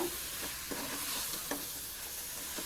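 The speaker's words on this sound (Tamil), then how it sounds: "இந்த மசால்களுக்கு தேவையான அளவுக்கு மட்டும் நான் இப்போ சேர்த்துருக்கேன் நல்லா வதக்கி விடுங்க" Tomato masala sautéing in a pan for Ambur biryani, a soft continuous sizzle with several light spatula scrapes and taps spread across the stretch, no voices.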